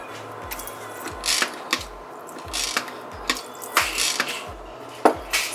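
A pump dispenser squirts coffee flavoring, pressed about nine times in an uneven rhythm, each stroke giving a close mechanical click and a short gurgling squirt.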